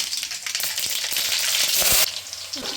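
Mustard seeds fry in hot oil for a village-style fish curry, a dense crackling sizzle that swells and peaks before dropping off abruptly near the end, close and loud with nobody talking.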